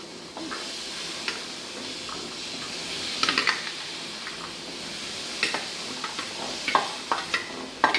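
Boiled chickpeas are sautéed in a pan and stirred, with a close, steady sizzle and frequent scraping clicks from the spoon, busier toward the end.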